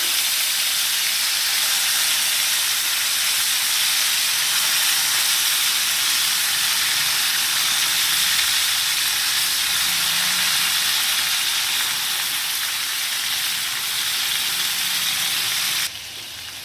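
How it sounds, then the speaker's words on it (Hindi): Chicken pieces fry in a pan over a medium flame for Afghani chicken karahi, making a loud, continuous close sizzle and hiss that holds steady, then drops off slightly right at the end. "चिकन मैंने सारा पैन में रख दिया है।"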